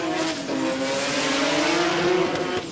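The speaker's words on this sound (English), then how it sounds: "Oh, nice skid there out of the SICK 100 Racing Mazda." A Mazda 13B turbo rotary drag car squeals its tyres in a loud skid at a drag strip, with a steady, sustained screech and engine roar lasting the whole moment without a break.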